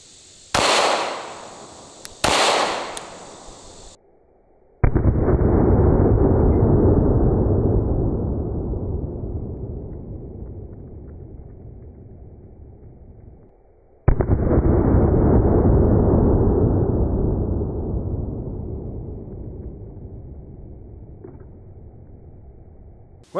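Pistol shots from a 9mm loaded with Norma monolithic hollow points, fired at a torso target 100 yards away outdoors: a couple of quick sharp cracks, then two loud booming reports, each followed by a long rolling echo that slowly fades.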